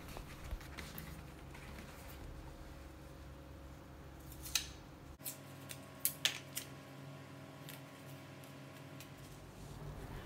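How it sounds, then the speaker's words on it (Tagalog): Scissors snip small pieces of masking tape, a handful of sharp, close clicks spaced irregularly over a quiet background. "Maggupit kayo ng mga kapirasong tape"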